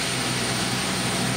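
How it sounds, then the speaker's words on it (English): Steady, loud roar of an airplane's engines at Pisa airport, a broad continuous rumble with no break over a brief moment. "quick shot of Mark as we just get off the plane at Pisa."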